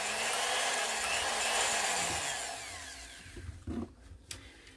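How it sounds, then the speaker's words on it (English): A variable-speed electric drill worked by a foot pedal winds down from a high whine to a lower hum, then falls quiet with a few small clicks and knocks of handling nearby. "You plug in the drill to the foot pedal, and then it's variable speed, so you can go fast or slow."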